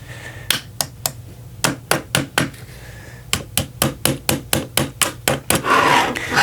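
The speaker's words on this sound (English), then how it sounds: "Use the hammer, maybe just the side of the plastic so we don't mar anything." Retaining pins are tapped into a Ruger LC Carbine frame with the plastic side of a hammer, a close run of crisp, evenly spaced taps in two bursts, ending in a brief scraping rustle.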